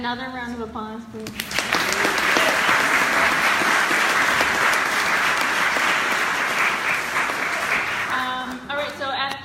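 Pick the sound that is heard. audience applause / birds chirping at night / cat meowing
audience applause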